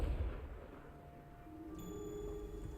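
A Confringo fire spell bursts in Hogwarts Legacy with a low, booming blast at the start that rumbles off, followed by ringing magical tones, moderately loud with no talking.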